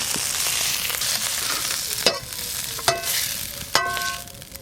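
Fish fry in hot oil with a close, steady sizzle while a metal spatula stirs them, striking the pan in three ringing clinks near the end.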